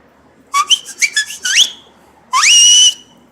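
A man whistles a quick run of short rising and warbling notes, then holds one long, loud sliding tone, clear and close with no talking.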